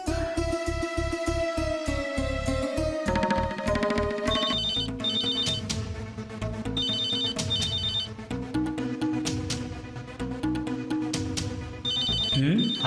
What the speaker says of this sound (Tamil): அத்தான் செல்லேருந்து கால் வருது.